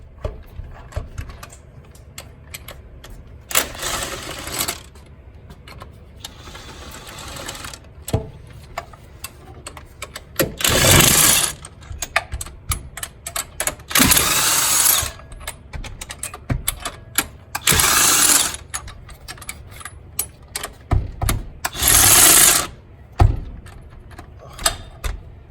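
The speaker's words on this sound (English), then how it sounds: "now we can rattle them off with the gun" Pneumatic impact gun rattling bolts off a Detroit Diesel 6-71 engine on a GM bus, in several loud bursts of a second or two each, separated by quieter gaps of shop clatter and handling noise.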